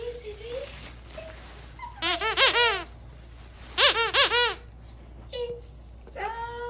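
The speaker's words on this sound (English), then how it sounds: "Must be a squeaky toy, Cedric." A squeaky cow-shaped dog toy squeaks in quick clustered bursts, close and clear, with a voice talking softly in between.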